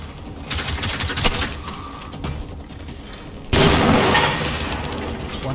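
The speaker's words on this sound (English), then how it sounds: "The auto gun doesn't seem to have a lot of stopping power because I was hitting" Auto gun firing in the game GenZ during a civil defence mission: rapid automatic bursts with a burst at the start, a pause, then a louder sustained stream of shots, close and continuous.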